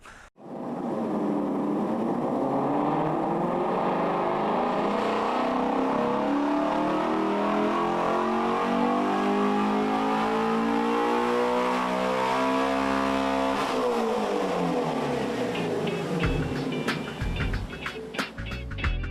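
A Ford Mustang Shelby accelerates hard, its engine note climbing steadily in pitch through the gears, loud and close, then dropping and settling near the end.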